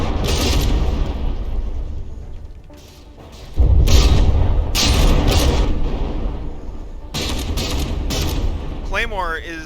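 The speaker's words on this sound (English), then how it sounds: "I'm not sure how any of those guns are still firing" Battleship turret guns in the naval combat game From the Depths fire in heavy, booming volleys and rolling bursts during a tournament battle, loud and near, with a whistling sweep at the end.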